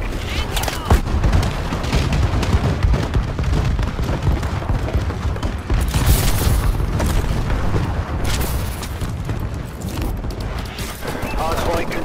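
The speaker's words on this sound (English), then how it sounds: "Enemy bombing run overhead." Enemy bombing-run explosions in Call of Duty Advanced Warfare multiplayer, a dense continuous barrage of booms and gunfire, loud and close, with voices speaking over it.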